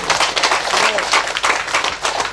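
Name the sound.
applause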